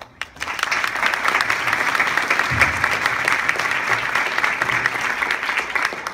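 An audience at a panel on weight loss and coaching bursts into applause for a speaker; steady, dense clapping starts abruptly and carries on evenly at close range.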